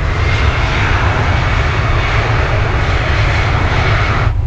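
A loud, close airplane engine roar fills the air continuously as the aircraft passes low overhead beside an airport next to a Florida canal.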